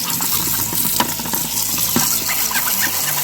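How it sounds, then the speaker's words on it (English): Running water rinsing mold and food particles out of a dishwasher interior, a continuous close splashing spray with gurgles and small droplet impacts against the tub, steady in loudness throughout. "Rinse off all the mold and food particles that's in here."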